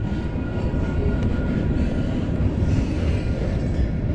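A train rumbles steadily past at a station platform, a dense, continuous low roar with faint rail clatter, close and loud throughout with no voices.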